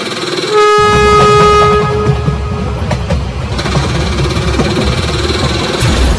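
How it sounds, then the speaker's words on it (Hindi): A cartoon train engine blasts a loud, sustained horn as it approaches, then a heavy rumbling engine roar follows and continues close and loud with no talking. "सामने से तो एक ट्रेन नहीं बल्कि एक ट्रेन का इंजन आ रहा है"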